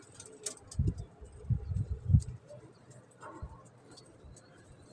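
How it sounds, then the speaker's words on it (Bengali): Several low, throaty pigeon coos roll out in a short cluster from birds in a loft, fairly close and clear, followed by quieter shuffling and a faint later coo. "দেখেন, এই দাপিতে কিছু কবুতর আছে মাশাআল্লাহ।"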